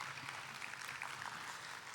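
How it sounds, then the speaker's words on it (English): Audience applause at an awards plenary, heard as faint, distant, even clapping from a large room throughout. "Let's clap for the contest."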